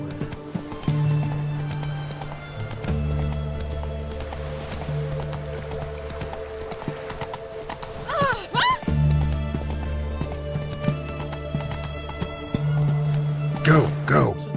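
Hooves of Geralt's horse Roach clip-clop at a steady galloping rhythm in The Witcher 3, with occasional whinnies, under a constant game music score and brief speech.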